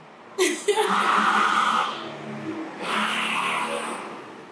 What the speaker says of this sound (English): That was a motorcycle that just went by.